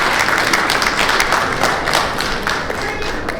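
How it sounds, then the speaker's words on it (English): A press-conference crowd before a boxing match between Oscar Duarte and Kenneth Sims Jr claps loudly and steadily for JoJo, dense close applause that holds at full strength throughout. "Round of applause for JoJo."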